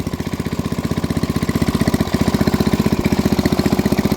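A cold vintage machine engine over sixty years old idles steadily, its loud, even low chugging pulsing in a fast regular rhythm close by, with no talk.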